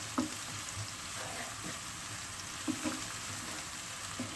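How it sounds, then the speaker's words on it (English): Tomato paste sizzling in olive oil in a pan for stuffed vine leaves, a soft, constant frying hiss with occasional light stirring clicks, heard close and fairly quiet. "Now, as you can see, it's sizzling. It started to cook."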